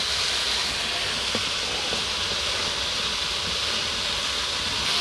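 Pointed gourd and ridge gourd fry gently on a low flame, making a constant, even hiss of sizzling oil that holds steady the whole time, close and without talk.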